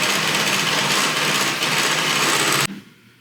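A high-pitched electric mixer beating cake batter whirs loudly and steadily for over two seconds, then cuts off abruptly, leaving a faint clatter.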